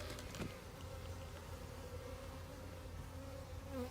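Steady hum of a few honeybees buzzing around a small three-frame experimental hive, a continuous droning buzz close by with no one speaking.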